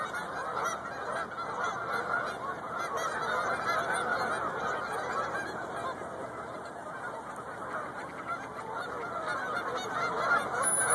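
Dense, unbroken honking from a big flock of geese gathered by a frozen lake, many overlapping calls at steady loudness, heard from a short distance and without voices.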